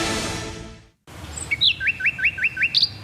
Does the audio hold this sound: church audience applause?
no